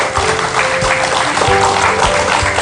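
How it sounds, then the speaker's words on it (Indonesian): A television studio audience applauds to welcome a doctor onto a talk show, producing a loud, steady wash of clapping with musical tones faintly underneath, continuous for a couple of seconds. "Langsung saja kita kasih tepuk tangan buat Dokter Wayan."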